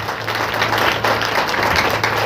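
Congregation clapping in a Sunday church meeting, a dense continuous patter of many hands at steady loudness filling the whole stretch with no voices on top.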